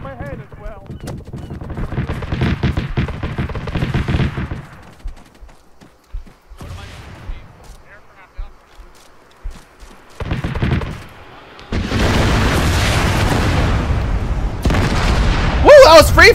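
Gunfire and explosions in the video game Arma 3, loud bursts of rapid automatic fire and booming blasts in chaotic clusters separated by brief lulls, with players' voices heard among the shooting.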